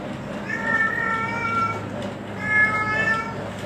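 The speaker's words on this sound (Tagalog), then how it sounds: "Ingay ng pusa." A cat meows twice, in two drawn-out calls about two seconds apart, fairly close and clear over a low background hum.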